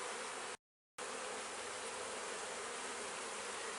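Dense buzzing of honey bees packed wall-to-wall in a productive hive, a loud continuous hum close by, cut by one short silent gap near the start.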